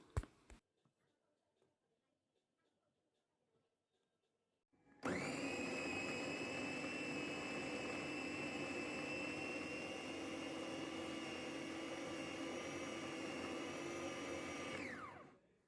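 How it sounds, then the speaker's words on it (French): A kitchen blender whirs loudly and steadily for about ten seconds as it purees two chopped onions, then spins down. Silence comes before it, broken only by a few clicks. "On en profite ensuite pour mixer nos 2 oignons qu'on a coupés"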